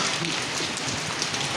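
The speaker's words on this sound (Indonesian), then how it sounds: "Alhamdulillah hari ini turun hujan teman-teman, dan walaupun tidak terlalu deras tapi lumayan basah ya." Light rain falling on a garden after watering, heard as a steady patter of drops hitting surfaces, a continuous moderate hiss with small irregular taps throughout.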